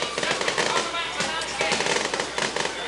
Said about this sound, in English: And the fireworks are blasting here in Prestonsburg.